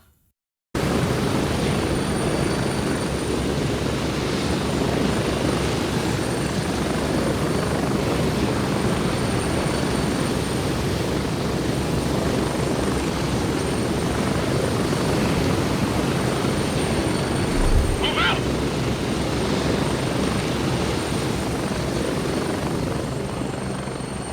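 Continuous loud helicopter rotor and engine roar from the video game Gray Zone Warfare, holding steady throughout with no voices.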